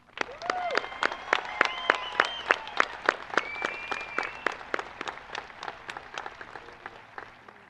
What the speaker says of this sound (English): Audience, please join us in another round of applause